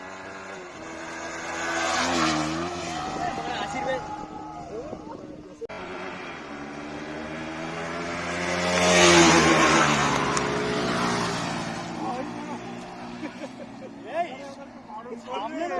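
Motorcycle engines rev and roar as riders do wheelies, rising and falling as they accelerate, with engine noise swelling in the middle and fading after.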